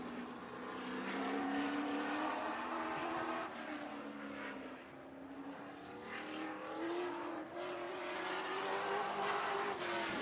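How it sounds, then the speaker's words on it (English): A number 100 race car laps Slinger Super Speedway in Wisconsin, its engine note rising and falling as it circles the short oval, loud and continuous with no commentary during the pass. "Weston Marthaler in the 100 car."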